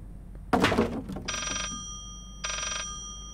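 An old telephone bell rings in the Layers of Fear game, with two separate bursts of metallic ringing after a dull thump. Each burst lasts under half a second and is followed by a gap of quiet.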